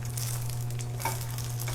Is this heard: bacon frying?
yes